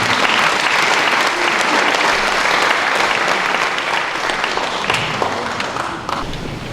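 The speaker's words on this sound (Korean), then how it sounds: "박수로 맞이해주시면 고맙겠습니다" A hall full of people applauds to welcome a speaker at a forum in a church, loud continuous clapping holding steady throughout and tapering slightly near the close.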